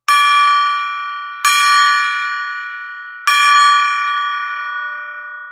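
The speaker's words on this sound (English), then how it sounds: "I got to ring the gong." A golden gong struck three times at a steady pace, each bright metallic ring bursting out loud and close, then sustaining and slowly fading before the next strike.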